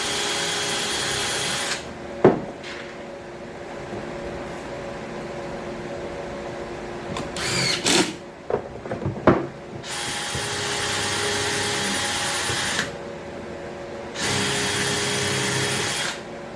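DeWalt battery power tools at work building a wooden box, several sustained whirring runs of a motor separated by quieter gaps and a few sharp knocks.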